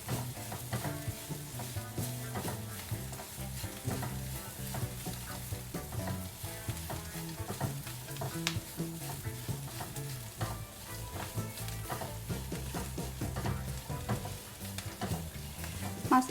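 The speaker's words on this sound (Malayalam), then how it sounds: "എല്ലാം കൂടി നന്നായിട്ട് അതിൻ്റെ പച്ചമണം മാറുന്നത് വരെ വഴറ്റി കൊടുക്കുക" Curry leaves and spices sautéing in a pan for broccoli egg burji, a continuous oily sizzle with scraping stir strokes and soft clinks, steady and close with no talking.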